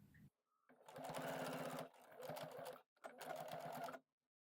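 A sewing machine runs in three close, loud bursts of steady rapid stitching, with short pauses between, as bias binding is sewn around the neck and armholes of a faux suede top.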